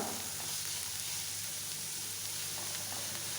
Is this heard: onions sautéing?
yes